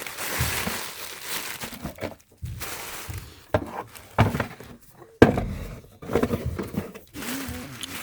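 Close, steady rustling and crinkling of a canvas dust bag being handled while unboxing Converse x Golf le Fleur sneakers, with soft bumps and shuffles running throughout.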